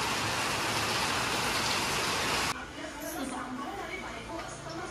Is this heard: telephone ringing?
no